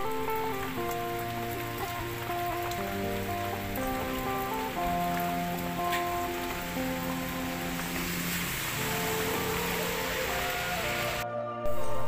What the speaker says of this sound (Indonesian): Jadi kita lihat cuacanya hujan di sana.